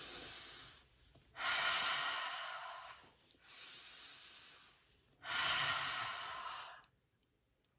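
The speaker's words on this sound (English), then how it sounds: "breathe in on the way up and exhale on the way down" A person breathes audibly through arm stretches, drawing slow inhales and pushing out longer exhales, three or four clear breath cycles close to the mic with brief quiet gaps and no talking.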